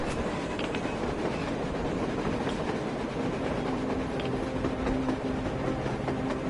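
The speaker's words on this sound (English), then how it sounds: "A train! A damn train on the surface!" A train in the video game Metro Exodus rumbles steadily past with rhythmic clattering of wheels on rails and a faint metallic squeal, continuous and moderately loud.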